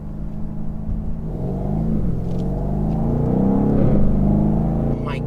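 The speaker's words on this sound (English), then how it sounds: "this exhaust sounds amazing. It sounds like an American muscle car." A 2019 BMW M850i idles and gently builds revs, producing a deep, steady exhaust rumble that swells slightly before easing off, heard close with no talking over it.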